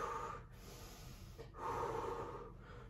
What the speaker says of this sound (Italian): Respiriamo sempre bene, respiriamo bene.